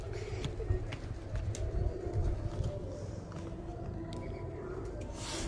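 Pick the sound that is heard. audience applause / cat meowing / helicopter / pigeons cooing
pigeons cooing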